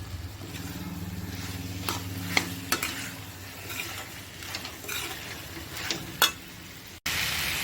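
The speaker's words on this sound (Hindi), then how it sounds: "आलू और शिमला मिर्च को भी 1-2 मिनट के लिए हमने इसमें बहुत अच्छे से भून लिया है" Potatoes and capsicum stirred and fried in a kadhai, a steady sizzle with repeated scraping stirs close by and a sharp clatter near the end, no talking.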